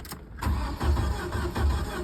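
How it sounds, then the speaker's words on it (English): A 1994 Jeep YJ engine cranks with a rapid, rhythmic churning, loud and close, without catching, over a continuous rough mechanical drone. "It's cranking, but no check engine lights coming on the dash."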